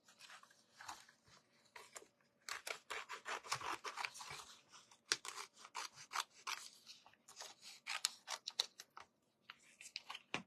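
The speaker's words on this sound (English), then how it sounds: "I'm going to cut this one out." Scissors snip out a paper butterfly transfer close by, a quiet, irregular run of short crisp cuts and papery rustles with brief pauses between them.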